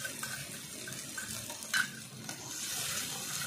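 Tomato paste sizzles and fries in a pan with a soft, steady hiss, stirring scrapes and a brief clatter partway through, with no voices.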